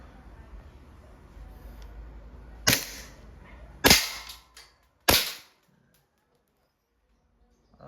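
Umarex airsoft Glock 17 Gen 3 Deluxe firing steel balls at a target: three sharp, loud cracks spaced about a second apart over a faint background hum, then near silence.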